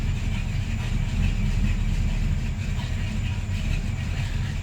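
A Buick Regal engine idling after a carburetor adjustment, a loud, steady low rumble that holds even throughout with no voices.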